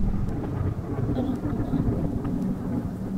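Thunder in the Choo Choo Charles horror game, a low continuous rumble rolling on for several seconds, with rain hissing over it, loud and steady, with no voices.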